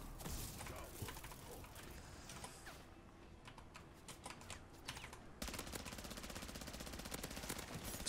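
Automatic gunfire in Modern Warfare 3 Zombies rattles in rapid bursts, with a brief quieter lull before a long, dense, sustained stream of shots, mixed with mechanical clatter and played at low volume.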